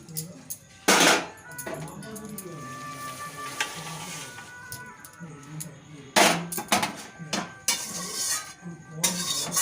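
A cooking pot of vegetarian cauliflower-stem chorchori is lifted off a gas stove, with sharp metallic clanks and scrapes of pan and utensil near the start and again after the middle, over a steady low kitchen background.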